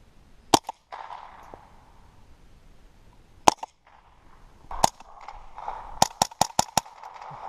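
Sharp gunshots fired at targets outdoors on a cabin trip: a few single shots spaced seconds apart, then a quick run of four cracks near the end, with faint background murmur between them.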